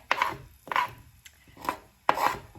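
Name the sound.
onions being slid into a hot pan to cook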